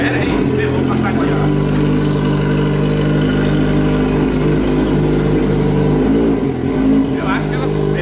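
A Yamaha XJ6 motorcycle engine hums and revs steadily at close range, a continuous mid-pitched drone running beneath people chatting.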